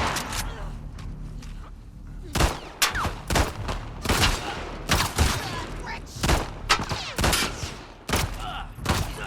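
Gunfire in The Last of Us Part 2, a rapid string of loud, sharp shots in irregular bursts over a low background with movement, a few shots close together and others spaced out.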